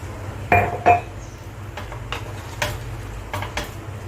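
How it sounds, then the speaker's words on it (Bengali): A lid set on a pot of papaya and potato chicken curry, two close metallic clanks in quick succession followed by lighter scattered clinks of cookware. "এবার আমি ঢাকা দিয়ে দিচ্ছি"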